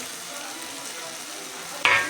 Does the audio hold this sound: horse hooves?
no